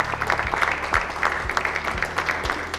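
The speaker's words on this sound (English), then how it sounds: "Give him a big round of applause." Audience clapping at a chamber of commerce meeting, moderate steady applause from a room of people, with a low hum running underneath.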